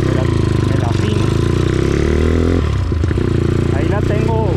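A Dax CT70 small motorcycle engine runs while riding, a buzzy, raspy drone with shifting pitch and a sudden change midway, loud and close, with a voice talking over it.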